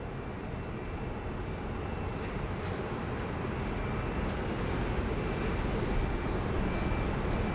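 A Jetstar airliner taxiing at Sydney Airport, its engines giving a steady, broad roar that holds level and swells slightly over several seconds with no voices.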